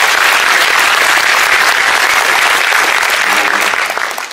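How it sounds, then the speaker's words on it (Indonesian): Loud, dense audience applause for an ambassador at a gathering, sustained clapping that holds steady and then tapers off at the end. "Beri tepuk tangan untuk Pak Dubes."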